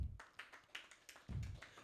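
A small audience at an entrepreneurs' event gives sparse, quiet applause, a few separate hand claps and taps close by with low room noise.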